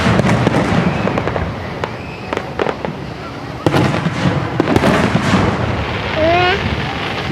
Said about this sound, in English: Look at the fireworks, Victor.